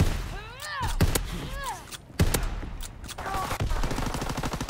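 Video game shooter gunfire: loud sharp shots and short bursts, some heavy thumps, mixed with whooshing game effects and rattling, a voice talking briefly among them.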